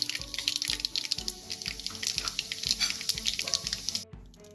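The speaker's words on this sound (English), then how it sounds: "Once the mustard gets splattered, I'm going to add in the whole spices." Mustard seeds and whole spices sizzling in hot oil for a beef curry, a steady crackling hiss with regular stirring knocks of a utensil, cutting off abruptly near the end.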